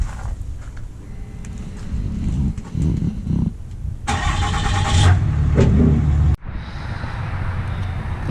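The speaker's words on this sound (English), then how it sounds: "So I'm just going to pull the truck forward a little bit." Pickup truck hitched to an RV trailer starts up and pulls forward, engine cranking and catching, then a steady nearby mid-pitched rumble with some clunks, loud and without talk.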